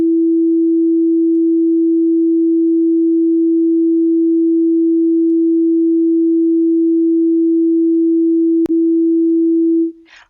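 A steady, pure, continuous electronic tone used to show sound travelling as compressions in air, loud and unchanging for about ten seconds, with a brief click near the end before it stops.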